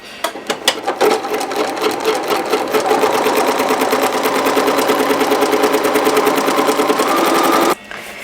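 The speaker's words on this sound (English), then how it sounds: "the next step is for you to sew a seam very close to the edge" A sewing machine stitches a seam close to the edge of a fabric nesting basket, starting with a few stuttering stitches, then running in a fast, loud, even rattle for several seconds before stopping abruptly.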